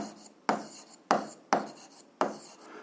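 Handwriting on paper during an algebra exercise, four or five short scratchy pen strokes repeating at a regular pace, close and fairly crisp with no talk.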